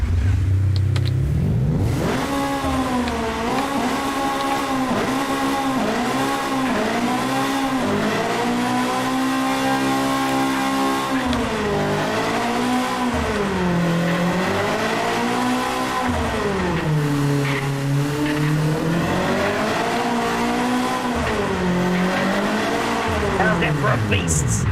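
A 1992 Honda EG6 with a 1.6L engine converted to AWD revs hard on a dyno, rising and falling in repeated sweeping pulls with sharp climbs and drops in pitch, loud and close throughout.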